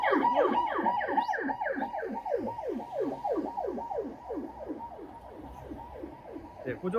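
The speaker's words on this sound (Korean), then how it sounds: "구급차 소리 때문에" A wailing ambulance siren in Seoul sweeps up and down in rapid repeated cycles, loud at first and gradually fading as it moves away.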